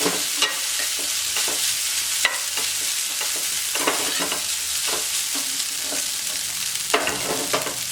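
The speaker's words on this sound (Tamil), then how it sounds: "நல்லா கலந்துருக்கிட்டு ஒன்றுலேருந்து ரெண்டு நிமிஷம் வதக்குனா போதும்" Elephant foot yam is stir-fried in a pan, its steady oily sizzle punctuated by repeated sharp scrapes and stirring clatters, close up and loud, with no voices over it.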